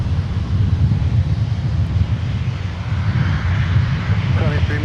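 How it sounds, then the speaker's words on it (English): Geared turbofan jet engines of airliners at a busy airport roar as a broad, steady rumble with a faint whine, sustained and fairly loud, mixed with wind noise. "Those Geared Turbo fans also sound quite cool as well."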